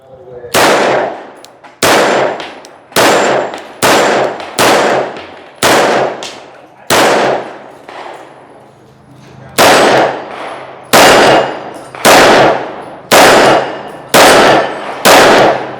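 Shots ring out from a 9mm Luger pistol with a compensator firing 124-grain rounds at steel targets, about a dozen loud sharp reports with ringing tails, spaced roughly a second apart in a steady cadence.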